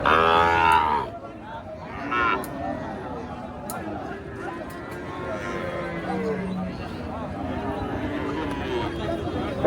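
A calf moos loudly at the start, then several more moos follow amid the busy murmur of a crowded cattle market, with people chattering throughout.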